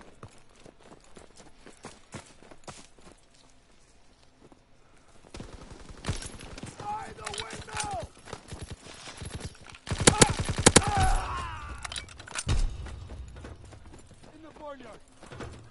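Machine gun fire in a World War II video game: bursts of rapid shots that grow louder and denser toward the middle, mixed with other game sounds and some talking.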